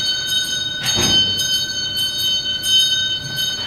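An electric bell rings for a seminar in a lecture hall, giving a loud sustained metallic ringing with repeated pulsing bursts, fairly close and without speech.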